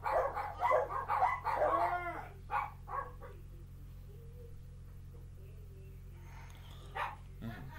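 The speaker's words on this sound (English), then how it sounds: "Dumb dogs." Dogs barking in a home, a burst of several loud, close barks at the start, then quieter intermittent yips and whimpers, with a brief bark near the end.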